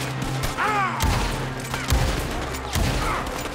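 Several sharp gunshots from a weapon in the video game Red Dead Redemption 2 ring out in quick bursts, loud and punchy with brief echoing tails, each blast spaced about a second apart.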